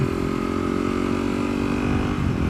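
A Yamaha WR250X motorcycle engine running while being ridden, a steady loud droning hum with constant low rumble and wind roar, close and unbroken, with no talk.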